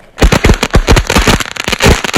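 A firecracker showering sparks as it burns, a loud, close crackling made of dense rapid pops that keep going throughout, with no one talking.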